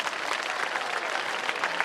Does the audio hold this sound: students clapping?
yes